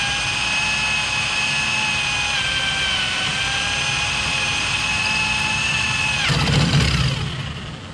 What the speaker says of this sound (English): Now I'm going to start drilling this hole first.